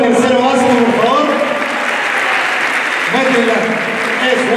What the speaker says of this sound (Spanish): Un fuerte aplauso para el tercero básico